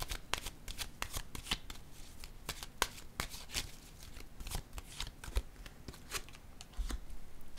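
Tarot cards being shuffled and laid down at a reading table, a steady run of crisp flicks and slaps close by, with occasional louder snaps as cards hit the surface.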